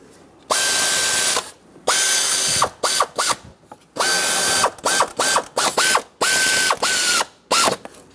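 On a 2003-2009 Dodge Ram 2500 with a 5.7L V8, a power ratchet snugs alternator bracket nuts in loud, close bursts of whirring ratcheting, some long and some short, separated by brief silences.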